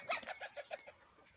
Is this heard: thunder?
no